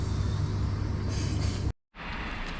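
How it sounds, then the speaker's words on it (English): Rumbling of a passing train at a railway station near Manchester on the Urmston to Manchester Airport route, a heavy steady low roar with rattling that cuts off abruptly partway, then resumes after a brief gap. "another train passing through"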